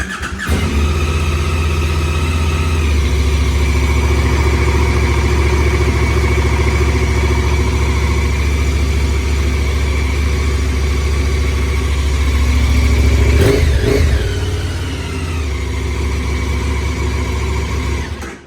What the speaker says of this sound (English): this is gonna start the engine